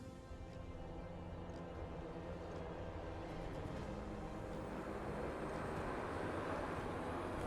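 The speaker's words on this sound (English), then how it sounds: "In the air, we see the drone flying with precision and reliability to its ultimate destination." An automated delivery drone flies away, a steady, loud, broadband whir and rushing drone of motors and rotors that holds constant without pause, with no voices present.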